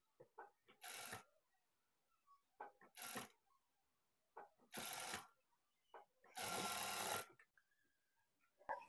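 A sewing machine stitching a lining blouse runs in four short bursts of rapid whirring, the last one longest, with quiet clicks and fabric handling in the pauses between.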